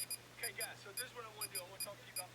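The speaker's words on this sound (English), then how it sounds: "when we're playing a YouTube video, it's even beeping in the danger zone" An EMF/RF radiation meter beeps in quick irregular bursts of high-pitched electronic tones, about ten beeps in two seconds, over a low steady hum and faint background.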